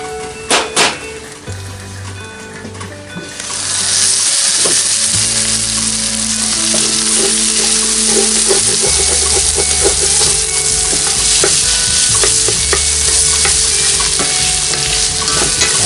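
Breakfast frying in a cast iron skillet over a camp stove outdoors: a few knocks and scrapes of stirring at first, then a loud, steady, close sizzle that keeps going under occasional utensil clinks.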